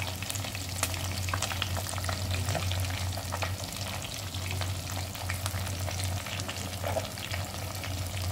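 Steady crackling sizzle of fish frying in oil, continuous and fairly close, with occasional sharper pops and a low hum underneath.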